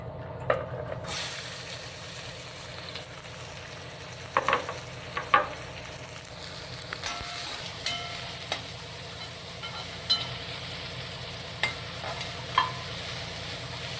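Onions frying in a pan for a Maharashtrian meal, a continuous soft sizzle with scattered scrapes and taps of a spatula as they are stirred, close and steady.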